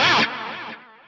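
A distorted electric guitar chord through the dual delay on a Neural DSP Nano Cortex, struck loud and then repeating in fading, wavering echoes that decay to quiet within about a second.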